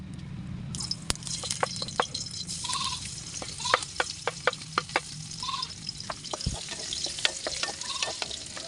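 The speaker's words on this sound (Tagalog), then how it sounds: "Ngayon naman ay magigisa na tayo ng ating sibuyas bawang." Garlic sautés in cooking oil with a busy crackling sizzle full of sharp spatters and pops, plus a few stirring scrapes, close up with no talking.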